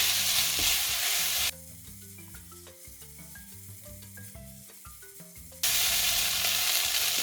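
Seaweed stems stir-fried in a pan over medium heat, with a loud, steady sizzle that drops to quieter frying and spatula stirring for a few seconds before the full sizzle returns, up close and with no talking.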